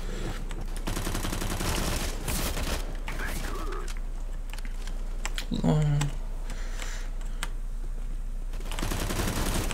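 Rapid gunfire bursts from the video game Counter-Strike: Global Offensive, with keyboard clatter and a player talking over the steady din.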